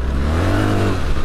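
A 2025 BMW R 1300 GS Adventure motorcycle with traction control on, revving loud and close off-road, its engine note sweeping up and back down in one strong surge.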